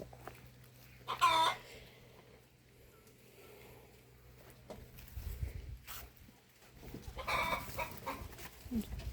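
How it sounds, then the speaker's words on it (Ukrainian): Young chicks cluck and chirp in short scattered bursts around a farmyard, with soft rustling and shuffling between the calls. "Молоді курчатка."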